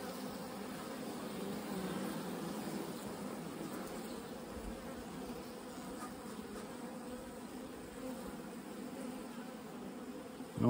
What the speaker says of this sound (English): This colony looks like it has enough bees.